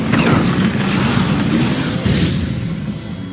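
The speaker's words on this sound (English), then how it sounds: "Ion cannon activated." Heavy, booming explosion of an ion cannon strike in the real-time strategy game Command & Conquer 3: Tiberium Wars, Kane Edition; a loud, sustained low rumble fills the whole stretch with crackling debris on top.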